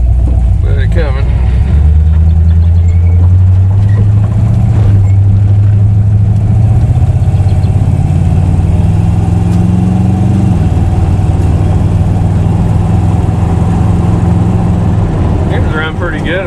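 A $200 Chevy small block 350 V8 fitted in a 1987 Dodge Dakota runs loud and close, its rumbling idle rising and falling with throttle blips while someone talks over it.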